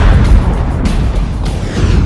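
A loud, deep rumbling explosion effect depicts a supernova blast, a sustained roaring boom heavy in low tones that churns without pause and carries no voices.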